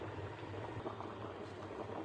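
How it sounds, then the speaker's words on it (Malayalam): Milk heats in a pot with a faint, continuous bubbling simmer and low hiss, steady and without any voices. "പാല് നമ്മൾ തിളയ്ക്കാൻ വെച്ചിട്ടുണ്ട്."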